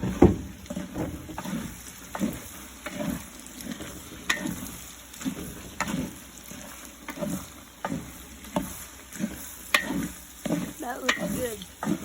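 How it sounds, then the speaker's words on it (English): Cajun sausage frying and being stirred in lard over an open fire, with breakfast sausage already in the pot: steady close sizzle under repeated scraping stirs and knocks, with no talk. "Next meat to go in, Cajun sausage"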